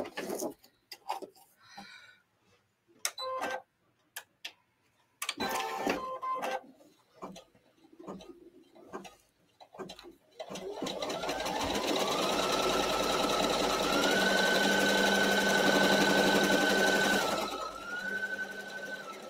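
An embroidery machine stitches down an appliqué piece in the hoop: after scattered handling clicks and pauses, a steady, close whirring hum with a rising and then level tone runs for several seconds before stopping.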